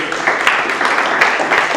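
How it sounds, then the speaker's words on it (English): A crowd applauds a presenter after a keynote presentation at a polytechnic strategic plan event, dense sustained clapping with a few louder bursts, filling the whole moment without pauses. "Can we give him a better round of applause?"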